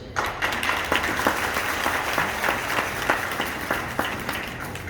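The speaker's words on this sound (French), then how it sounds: "Vous pouvez déjà applaudir" An audience applauds steadily at an event in Burkina Faso, a dense wash of many hands with individual claps popping through, moderately loud and continuous with no talking.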